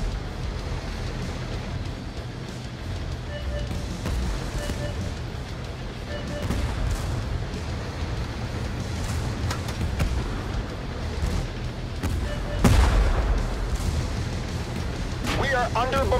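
Artillery bombardment in the tank battle video game Tank Force, dull distant booms scattered over a constant low rumble, with one heavier close blast near the end, while a voice speaks over it.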